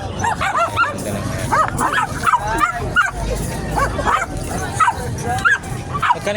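Small Chihuahua dogs at a busy livestock and animal market in San Carlos, Pangasinan, giving repeated short yips and barks, fairly close, over crowd noise and people talking.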